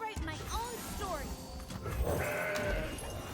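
A goat bleats in the card game Legends of Runeterra, a few wavering cries over busy game sounds and music, fairly close and moderately loud.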